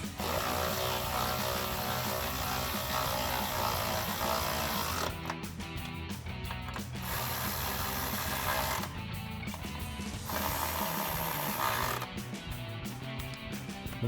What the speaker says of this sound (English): we can go ahead and tighten up our 3 nuts at the top of our strut